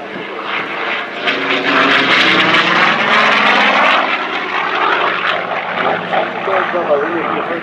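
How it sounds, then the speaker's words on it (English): An F4U Corsair fighter plane roars past close and loud at a World War II weekend demo, a swelling propeller and engine drone with a faint whistle that sweeps down in pitch as it passes. "Japanese called this airplane the whistling death"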